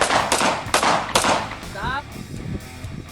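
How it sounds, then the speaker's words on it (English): Handgun shots crack at a shooting range during concealed handgun license qualification, a few loud, close bursts in quick succession, followed by a brief whistle-like tone and quieter range noise. "2 shots."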